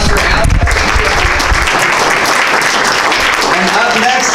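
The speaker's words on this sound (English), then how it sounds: "Well, another round of applause for Al." Conference audience at a dealership presidents' club event applauding after a presentation, a short burst of loud, dense clapping with some voices mixed in.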